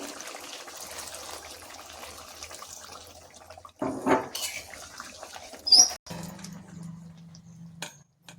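Water is poured into a pan of browned chicken curry, a close splash and trickle with clinks of a pot or utensil, followed by a short low hum.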